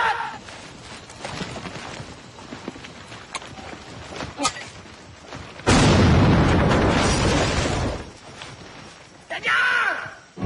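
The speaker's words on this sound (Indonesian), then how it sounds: "Granat!" A grenade blast in an Indonesian war film about General Sudirman: one loud, broad burst of about two seconds, then rumbling debris. Shouting and battle noise come before it, and more shouts follow.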